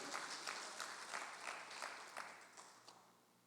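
Church congregation applauding during a service, a faint, fairly distant wash of clapping that swells briefly and then gradually fades away.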